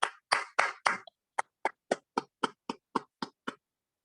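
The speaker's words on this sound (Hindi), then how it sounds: "मैं चाहूंगा इनके लिए एक बार जोरदार तालियां हो जाएं।" An audience claps in crisp, evenly spaced claps that start loud and grow lighter, about a dozen in all, then stop, with no talking over them.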